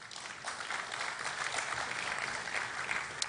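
A stakeholders forum audience claps in a dense, steady patter that runs unbroken at a moderate distance, with no voices over it.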